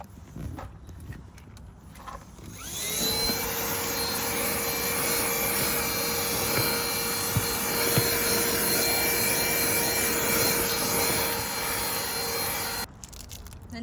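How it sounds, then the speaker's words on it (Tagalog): A vacuum cleaner runs over a floor mat, starting after a quiet moment and then droning loudly and steadily with a whining motor tone for about ten seconds before cutting off. "Tapos, i-vacuum natin to."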